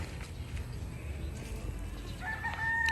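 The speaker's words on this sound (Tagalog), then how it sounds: "So ayan po yung 2 tandang." A rooster crows near the end, a bright harmonic call rising over steady low background noise.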